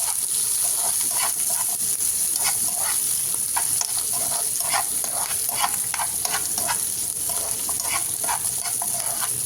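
Cashews and garlic sizzle steadily in a hot pan while a spoon stirs them in regular scraping strokes, close and continuous throughout, with no talking.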